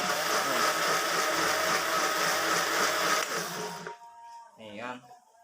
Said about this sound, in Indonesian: Ini berarti blender masih berjalan dengan normal ya guys ya.